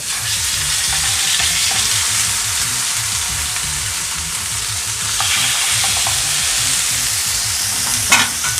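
Seer fish pieces fry in hot oil on a tawa with a loud, constant close-up sizzle, a low rumbling undertone and a few utensil taps near the end.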